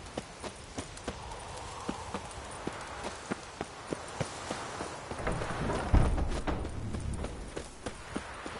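Roach, Geralt's horse in The Witcher 3, clip-clops along at a steady walking pace, each hoof strike distinct and fairly close, with a brief rustling surge midway before the even rhythm resumes.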